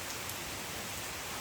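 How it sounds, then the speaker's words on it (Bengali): Heavy rain pouring down in a village courtyard by a temple, a dense, steady hiss of drops hitting surfaces that fills the whole stretch without a break. "ভালোই বৃষ্টি হচ্ছে।"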